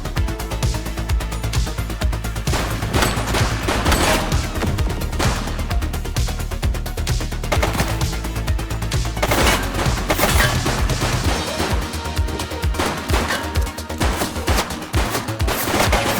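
Dense, continuous automatic gunfire from a suspect in the police video game The Precinct, rapid loud bursts with booms layered throughout, with no talk.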